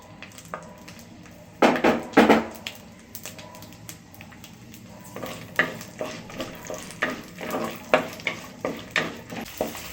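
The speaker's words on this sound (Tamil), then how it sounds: "இப்போ மிளகாவும் சின்ன வெங்காயத்தையும் சேர்த்து வதக்க போகிறோம்" Chillies and small shallots sautéing in a pan for a mint coriander chutney, heard as bursts of stirring scrapes and frying sizzle, with a loud clatter early on and then a steady rhythm of spoon strokes.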